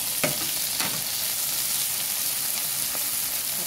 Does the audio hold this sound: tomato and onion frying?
yes